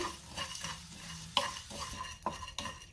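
Whole spices, including cardamom, stirred and dry-roasted in a metal pan, with repeated scraping and clinking of the spoon against the pan and a soft sizzle underneath.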